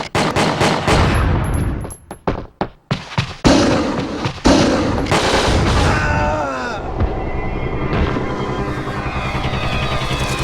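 Rapid bursts of gunfire from handguns, shotguns, machine guns and rocket launchers in a PS2 shooter game, loud and dense, with sharp cracks and booming blasts running continuously over a busy soundtrack.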